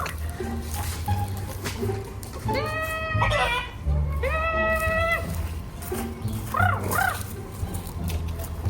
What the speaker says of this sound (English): she is waving the damn chicken over the fence